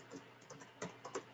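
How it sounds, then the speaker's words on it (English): Someone types on a computer keyboard, producing a handful of quiet, irregular key clicks with a few louder strikes, close but soft against a faint room hum. "I'm just typing my name over here"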